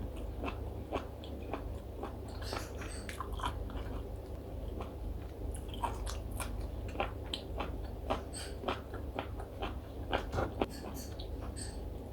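Someone chewing and eating squid up close, with repeated crunchy bites and wet chewing at an irregular rhythm over a low background hum, and occasional soft talk.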